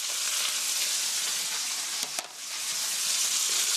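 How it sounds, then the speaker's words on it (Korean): Pork with green onion, leek and garlic stir-fries in a pan with a loud, steady, close sizzle, briefly broken by a quick scrape of stirring midway. "이렇게 해서 살살 볶아주세요"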